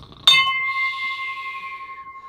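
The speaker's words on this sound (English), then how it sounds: "They never get tired of ringing that bell" A single bell struck once nearby, a sharp metallic clang followed by a clear sustained ring that slowly decays over about two seconds, heard alone.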